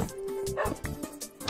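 Several dogs bark and yip in Minecraft, quick game-style woofs overlapping in a short busy burst at moderate loudness.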